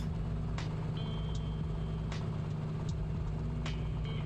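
Simulated Piper Comanche (A2A) aircraft engine idling in a flight simulator near Tahiti, a steady low droning rumble with constant loudness, punctuated by a few faint clicks.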